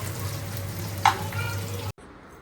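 Onions browning in a pan for baingan bharta give off a steady close sizzle over a low hum, with one brief clatter midway before the sound cuts off abruptly.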